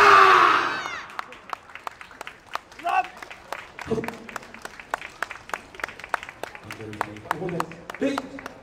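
Japanese festival crowd performs ceremonial group hand-clapping at a YOSAKOI dance festival plaza: a burst of loud cheering and applause, then a steady series of single sharp, unison claps repeating at a regular beat.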